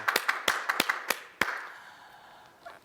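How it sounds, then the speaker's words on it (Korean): Clapping from a church congregation during a worship service, a burst of sharp, fairly close claps that thins out and fades after about a second and a half. "다시 한번 박수로 영광 돌리겠습니다."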